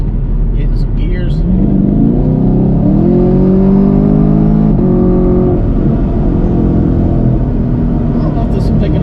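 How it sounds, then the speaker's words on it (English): A Chevrolet Camaro cruising and shifting gears, a loud, close in-cabin engine drone whose pitch rises and falls with each gear change, a whir continuing underneath throughout. "Cruising in this beautiful Camaro, drinking some coffee, hitting some gears."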